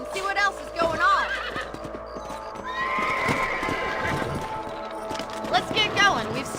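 Horses in Red Dead Redemption whinny and hooves clip-clop at a steady canter, with game music or ambience underneath and a voice briefly present.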